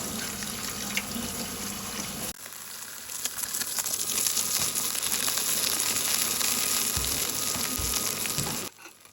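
Fish frying skin side down in a hot pan, a steady broad sizzle that runs for several seconds without pause, loud and close, then cuts off abruptly near the end.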